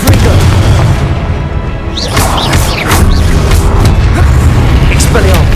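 Confringo explosive spell in the video game Hogwarts Legacy gives loud booming blasts and crashing impacts over a heavy continuous rumble, with a voice talking over them.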